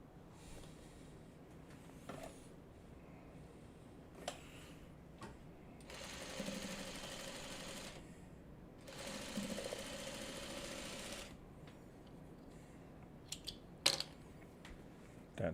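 A sewing machine stitches together quadrants of a Farmer's Wife quilt block in two steady runs of several seconds each, separated by quiet pauses with small handling clicks and taps; the sound is faint and close.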